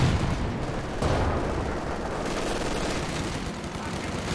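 Machine gun fire in Company of Heroes 2, with two machine guns and anti-tank guns in action. Dense, continuous gunfire and battle noise run through the whole stretch, with a sharper burst early on.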